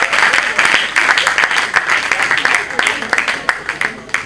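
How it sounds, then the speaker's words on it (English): A stand-up comedy audience claps, a busy, uneven patter of many hands with sharp individual claps standing out, fairly loud, with voices mixed in. "If you're clapping, clap"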